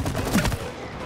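Gunfire rattles in the video game It Takes Two as players shoot at bottles, a dense burst of rapid shots that then trails off.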